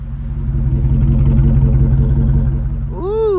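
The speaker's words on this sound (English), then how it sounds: "I guess I'm gonna just let y'all hear the stock mufflers" A car idles through its stock mufflers with a deep, steady low rumble that swells slightly mid-clip, close by, before a voice cuts in near the end.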